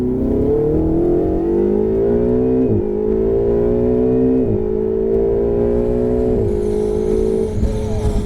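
A Ferrari 488 GTB accelerating at full throttle on a track, its engine note loud and close, climbing in pitch through several gears with brief dips at each upshift.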